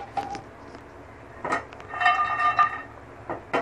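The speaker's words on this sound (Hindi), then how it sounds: "काजू और बादाम को पहले मैं थोड़ा सा भून लूँगी।" Cashews and almonds dry-roasting in a pan, with a few scattered clinks and metallic scrapes as they are stirred against the metal, moderately close and mostly isolated.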